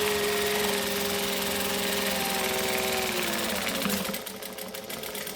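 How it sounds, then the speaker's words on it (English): A sewing machine back stitching on a quilting or decorative project, running steadily and loudly with a continuous motor hum and rapid needle chatter, shifting to a rougher, more uneven rhythm near the end. "Back stitch at the other end."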